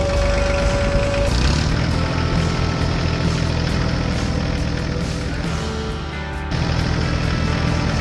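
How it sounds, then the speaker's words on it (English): A tractor fitted with a front snow plow drives across a snowy farm, its heavy diesel engine droning low and steady throughout, close and loud, with a brief higher whine early on and a slight dip near the end. "The tractor moved across the farm toward the field where a smaller tractor was stuck."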